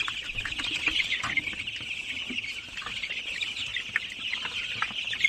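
A flock of 17-day-old farm chickens clucks and chirps continuously around feeding trays, a steady busy chatter at close range with no talking.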